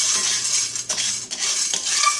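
Coffee beans being stirred with a wooden spoon in a dry skillet give a steady dry rattling and scraping, close and continuous, with a couple of brief dips in the stirring.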